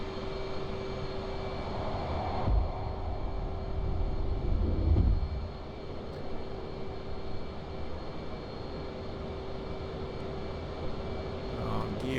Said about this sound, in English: So we're going to quickly take off.